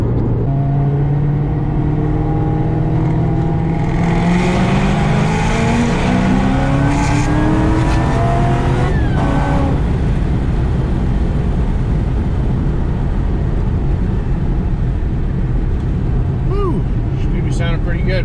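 A 2007 Ford Mustang Shelby GT500 accelerates hard through the gears on a logging pull, loud engine rising in pitch with shift breaks before settling into heavy road and wind roar, heard from inside the car.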